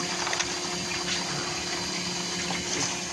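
Steady bubbling and churning water with a constant mechanical hum, as an air pump runs continuously close by, circulating octane and plain water to make cooking gas.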